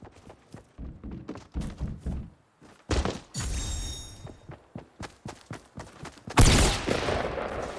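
Rapid bursts of gunfire in a battle-royale building shooter, loud sharp cracks in uneven clusters, with one heavy blast near the end trailing into a long wash of noise.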